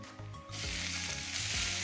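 A salt, pepper and garlic seasoned cowboy steak hits a hot pan with butter, breaking into loud, steady sizzling and frying that swells and continues with slight stirring sounds.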